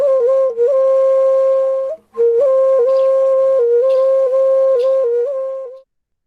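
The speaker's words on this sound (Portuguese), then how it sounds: "Flauta indígena culutá." An indigenous culutá flute plays a clear melodic line of sustained, slightly wavering tones in a steady rhythm, with a brief pause near the middle, close and loud with no voices.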